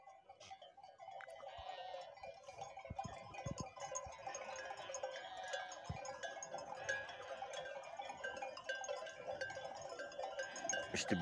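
Sheep graze on a village pasture with bells clinking steadily, bleats and tinkling bell tones filling the scene at moderate distance with no talk.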